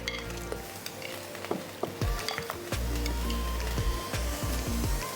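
Oil sizzles steadily as chicken fries for biryani, with scattered stirring clinks and scrapes from a utensil in the pan; no talking.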